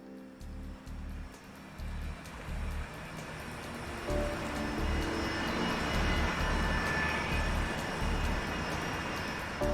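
Sustained roar of an Airbus airliner's engines in flight, a loud, steady broadband rush that swells midway, with no voices over it.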